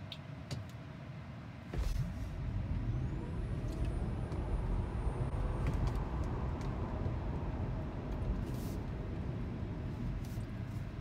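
A Tesla Model 3 Performance launches from a standstill to 60 mph, a low rushing swell of road and wind noise that rises suddenly and holds steady inside the cabin, with a faint electric whine and no talking.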